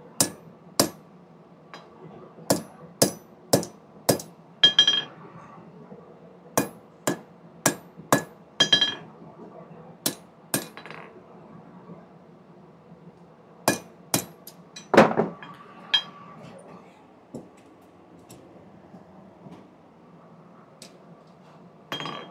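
Hammer blows ring out on hot coil spring steel at a forge, sharp metallic strikes landing singly and in quick clusters of two to four, close and loud with quiet gaps between.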